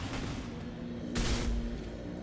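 Gunfire from a weapon in the sci-fi shooter game Mass Effect 2, a short burst of shots with a loud blast near the middle, set against a steady low game hum.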